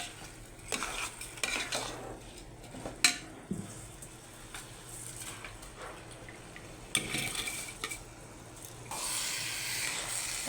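Rice and red lentils stirred together in a pot for khichuri, with repeated scraping, clinking and soft sizzling strokes at an uneven pace, close and moderately quiet, with no talk.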